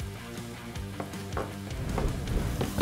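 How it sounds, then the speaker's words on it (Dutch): Finely diced onions sizzle and fry in a pan, a dense steady crackle with periodic scraping stir strokes, close and fairly loud. "De uitjes zijn al een beetje aan het fruiten."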